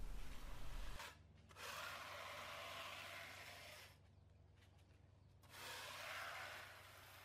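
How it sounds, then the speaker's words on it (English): A putty knife spreads decking material along the edges of a pool deck in Phoenix, making soft, steady scraping and rubbing strokes in two long passes with quiet pauses between them. "we apply decking material to the edges of the deck, and we are using a putty knife to do that"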